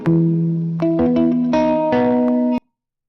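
Electric guitar played through a Princeton amp: a run of sustained chords and single notes, each struck cleanly and ringing on with a touch of grit, close and loud, stopping abruptly near the end.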